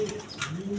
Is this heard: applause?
no